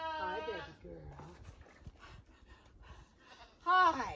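A little goat, a bottle-raised kid on a farm, bleats up close in short wavering cries at the start and again at the end, with a person talking softly to it in between.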